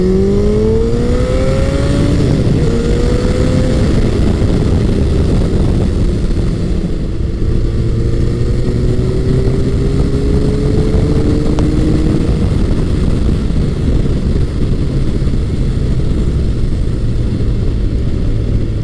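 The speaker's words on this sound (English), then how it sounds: "this is my first time riding a fuel injected bike" A fuel-injected Honda CBR1100XX Blackbird ridden in top gear, its engine droning loud and steady with rising pitch sweeps as it accelerates through the mid-range, wind rush layered beneath the exhaust note and no talking.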